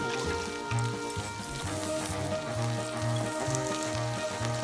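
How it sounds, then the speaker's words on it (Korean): Steady, close sizzling and crackling of Korean beef meat rolls frying on a lightly oiled hot grill plate, a constant hiss with popping spatter throughout, no voices. "고기 마리를 구워봅니다"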